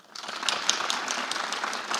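A round of applause from an audience at a live church-and-state election forum, a brief burst of many hands clapping, moderately loud and fairly steady, with scattered sharper claps standing out.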